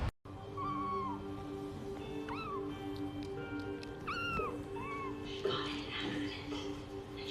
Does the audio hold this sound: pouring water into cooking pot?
no